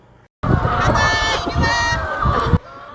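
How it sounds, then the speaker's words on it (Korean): Free-range chickens on a farm hillside cackle and call loudly and close, several birds overlapping in a busy, continuous chorus. "방목해서 키우는 단옥농장의 자랑거리 닭에게 모이를 주는 일이었습니다"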